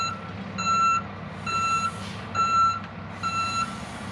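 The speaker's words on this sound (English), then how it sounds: "I'll tell you, this dump truck has been great." A dump truck's reversing alarm beeps four times at an even pace, loud and close, over a low engine rumble.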